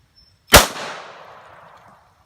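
A single loud shot from a Norinco model 213 Tokarev pistol, fired at a milk jug outdoors, with a sharp crack followed by a long, fading echo.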